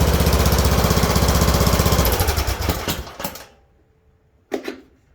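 A loud Craftsman riding mower engine chugs and rattles up close, then shuts off and winds down into quiet, followed by a brief mechanical clunk.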